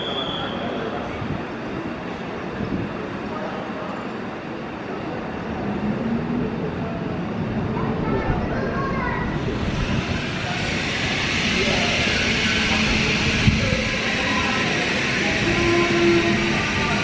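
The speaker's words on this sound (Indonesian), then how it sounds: "kereta feeder diberangkatkan" A feeder train departs on the Padalarang to Bandung line, a steady rumbling roll of the cars close by that builds slightly, with high squeal and hiss joining partway through.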